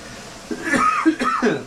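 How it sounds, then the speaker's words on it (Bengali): Someone coughs repeatedly after black pepper powder catches in the throat while cooking Chinese-style fried rice; a few harsh, close bursts over about a second. "গোলমরিচের গুঁড়োটা ঢুকে গেছে গলাতে লেগে কাশি হচ্ছে"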